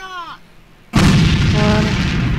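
A grenade blast in the online shooter A.V.A lands abruptly after a moment of near quiet, a loud broadband boom whose roar holds steady for over a second with faint tonal traces inside it.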